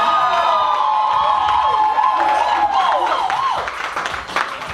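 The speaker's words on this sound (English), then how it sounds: "One more round of applause for Blessed Empress." An audience at a poetry performance claps, whoops and cheers loudly, with high-pitched shouts and whistles riding over steady applause that eases off slightly toward the end.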